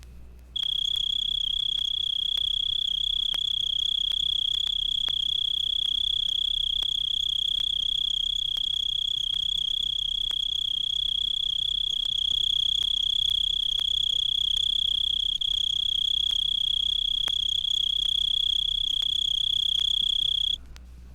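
A tree cricket of the kind found on small weeds sings alone in a continuous, high, steady trill. It starts abruptly, holds evenly for about twenty seconds, then stops, with no other sound.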